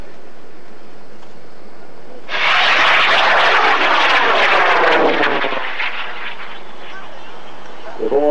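A high-power rocket motor ignites at an outdoor launch event in Argonia, Kansas, bursting into a loud, sustained roaring rush that fades as it climbs away, preceded by quiet background.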